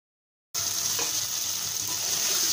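Spice-mixed stuffing for stuffed pointed gourd with prawns frying in oil with garam masala, a steady loud sizzle starting abruptly and continuing evenly, with a faint stir scrape partway through.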